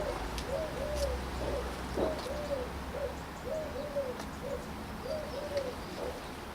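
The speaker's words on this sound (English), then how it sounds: "The old pigeons are a nuisance," Pigeons nesting in a nearby tree coo in a steady repeated rhythm of soft, low calls, moderately close, over a continuous outdoor background hum on an allotment.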